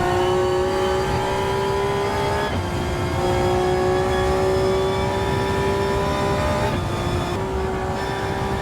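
A Honda NSX race car in a racing video game at Suzuka, its engine droning loudly and steadily with sustained high-pitched whine, brief dips in pitch as it shifts or lifts, no voices.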